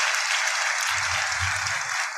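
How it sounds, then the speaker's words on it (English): Applause during a talk show interview, a bright, steady patter of clapping throughout with a low rumbling voice or background noise joining partway. "I want to give you a round of applause"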